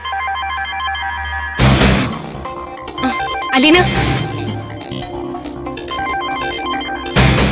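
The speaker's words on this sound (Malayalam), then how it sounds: "നിന്റെ ഫോൺ റിങ് ചെയ്യുന്നു." A mobile phone ringtone plays as a repeating electronic melody, loud and close, running through the whole stretch with a brief spoken name over it.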